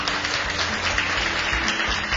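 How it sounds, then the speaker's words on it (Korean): Audience applause at an opening ceremony for a citizens' college local-content creator course, a loud, continuous burst of many hands clapping with no voices over it. "다시 한번 큰 박수"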